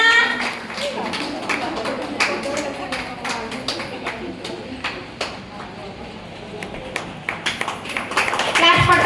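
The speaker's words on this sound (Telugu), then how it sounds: "పిల్లలు క్లాప్స్ కొట్టండి" Children clapping at a school training-day certificate ceremony, scattered bursts of applause and taps coming and going, with talking throughout and a louder burst near the end.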